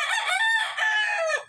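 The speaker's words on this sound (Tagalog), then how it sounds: "iba na yung tunog ng kanyang tilaok" A single loud broodcock crow, close and drawn out over about a second and a half, with a slightly strained, rough tone changed from its usual sound.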